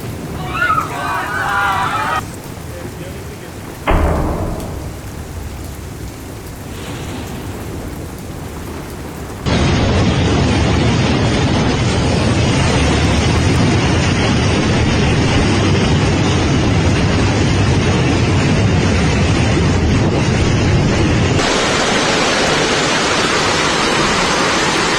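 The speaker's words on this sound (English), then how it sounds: "Further and further increasing wind speeds rushed across the then empty city streets" Storm wind and heavy rain from Cyclone Domingos sweeping across Sicily, a roaring wall of rain and gusting wind with thunder, loud and continuous after a quieter opening.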